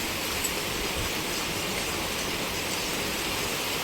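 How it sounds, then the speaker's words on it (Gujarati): Heavy rain pours down in Jamnagar during the Navratri festival, a steady, even hiss of water that runs unbroken throughout, with no voices. "જો ફૂલે ફૂલ વરસાદ ચાલુ છે"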